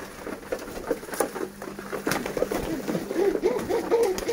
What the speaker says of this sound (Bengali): এই যেগুলো আমার দেশি কবুতর